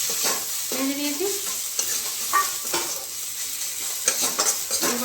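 Dry-roasted cumin is stirred in a hot pan, giving a steady sizzle with scraping strokes and occasional clinks of the utensil against the pan, with no talking.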